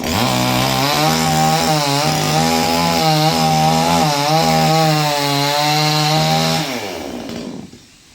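A chainsaw runs steadily at full throttle, its engine pitch wavering as it bites into a dried coconut palm trunk, then cuts off and winds down near the end.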